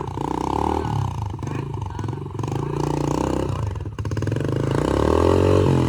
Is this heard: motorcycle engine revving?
yes